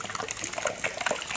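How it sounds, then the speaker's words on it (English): Water from a ram pump running steadily, a faint broadband gush and trickle heard from a distance with no voices over it. "I don't know if you hear water running"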